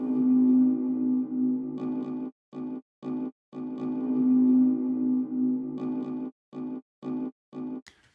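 Omnisphere percussive synthesizer patch with the arpeggiator on: long sustained tonal hits alternating with quick, evenly spaced rhythmic stabs, forming a repeating pulsing sequence that stops and starts sharply, loud and alone.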